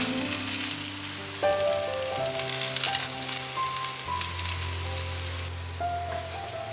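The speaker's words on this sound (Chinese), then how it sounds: "油热了之后，把芋头卷放进来，慢慢的煎" Steady hiss of taro rolls pan-frying in hot oil, a constant crackle running beneath background music with sustained melodic notes.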